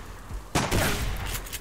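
Magnum revolver firing in the Subsistence video game: a sudden loud gunshot blast with a short echoing tail, alone without talk.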